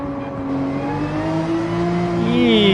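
A race car engine accelerates in Gran Turismo 7 on a forest circuit, its pitch climbing smoothly as the revs build to a loud, whining pull.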